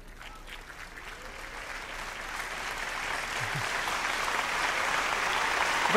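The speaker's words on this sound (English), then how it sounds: "Keep that applause going for her." Applause from the audience at a close-up magic concert, steady clapping that builds gradually in loudness across several seconds, with a faint voice underneath near the end.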